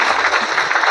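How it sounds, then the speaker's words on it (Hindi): An audience clapping together, a dense, steady wash of applause heard close and loud for a brief moment, with no talking over it. "चलिए आप लोग अपने लिए ताली बजा सकते हैं।"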